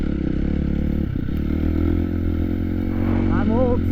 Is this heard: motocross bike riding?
yes